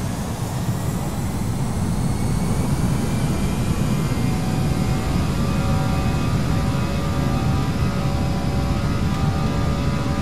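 Airbus A319 jet engines spool up to takeoff power in a flight simulator, producing a loud, steady broadband roar with a faint rising whine, continuous and alone.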